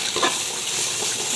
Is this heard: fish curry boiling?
yes